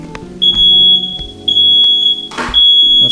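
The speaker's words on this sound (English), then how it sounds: "That's not the bite alarm, that's the smoke alarm." Smoke alarm at a campsite on a carp fishing trip sounds a loud, shrill, steady beep in long repeated pulses, with a brief rustle partway through.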